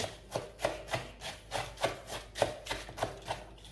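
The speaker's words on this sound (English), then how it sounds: "we're just going to mix that around in the butter" A small scraper stirs and rubs shredded cheese into butter for an old-fashioned squash casserole, giving about a dozen soft, rhythmic scraping strokes at close range with no talk.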